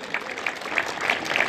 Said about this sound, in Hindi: जोरदार तालियां फिर से